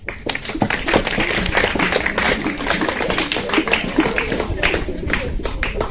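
A debate audience claps for the speakers. The applause is a dense, lively patter of many hands, close and steady throughout, with some voices mixed in.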